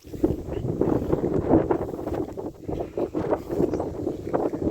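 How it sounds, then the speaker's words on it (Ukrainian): Steady wind buffets the microphone outdoors during hay-making, a low, rumbling roar with gusty swells and no one speaking. "Вітер, правда, такий, можливо, задуло."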